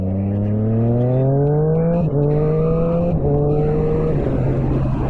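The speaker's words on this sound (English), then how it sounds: "This Leo Vince pipe, Vince, however you say it, sounds amazing. Very throaty, a deep, nice deep sound to it." A Triumph Street Triple 765RS motorcycle with a Leo Vince exhaust, loud and close as it accelerates hard, its engine note climbing through three gear changes with brief dips between, a deep, throaty roar over wind rush.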